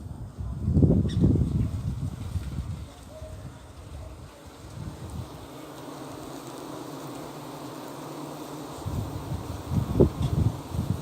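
Honey bees buzzing around a hive entrance, some coming in loaded with pollen ahead of rain, a soft continuous drone mixed with gusty wind rustle and a few brief low thumps near the microphone.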